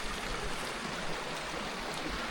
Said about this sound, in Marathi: आता इकडनं एक पाण्याचा स्रोत आले आपण बघूयात.